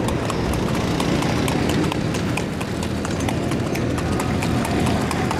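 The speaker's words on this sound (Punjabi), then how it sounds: "ਤੁਸੀਂ ਦੇਖੋ ਸਾਬੇ ਦੀ ਘੋੜੀ, ਮਾਸ਼ਾ ਅੱਲਾ, ਬਹੁਤ ਪਿਆਰੀ ਘੋੜੀ ਅਤੇ ਬਹੁਤ ਨਖਰੇ ਵਾਲੀ ਘੋੜੀ ਜਨਾਬ।" A mare's hooves clip-clop steadily on hard ground in a village, a close, continuous run of sharp hoof strikes with no voices over them.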